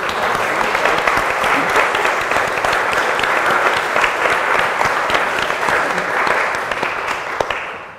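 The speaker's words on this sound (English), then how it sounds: "So let's give Chris a round of applause." A lecture-series audience at a museum gives loud, sustained applause, with thick, even clapping carrying on for about eight seconds and no voices over it.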